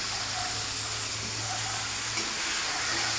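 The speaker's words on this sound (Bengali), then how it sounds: "এবার আমি পেঁয়াজটাকে ভাজি।" Sliced onions sizzle and fry in a hot pan for a home-cooked meal, a steady close crackling hiss with faint stirring and no talk.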